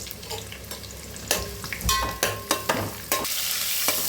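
Halved green chillies frying in hot ghee for chicken curry, a steady sizzle broken by several sharp scraping stirs and metallic clinks of a spoon against the pan.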